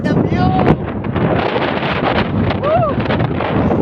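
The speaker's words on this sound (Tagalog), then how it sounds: "Ang hangin!" Strong wind buffets the microphone on the summit of Dingalan mountain, a loud continuous broadband roar with gusts, while a person's voice briefly sounds over it.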